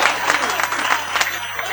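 An audience claps for a poet at a Hindi comic poetry gathering, a dense, continuous patter of many hands that stays fairly loud throughout, with voices mixed in.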